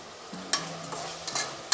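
Onion and tomato frying in a pan with a little sugar added, heard as a soft sizzle broken by a few short stirring scrapes of a spoon against the pan.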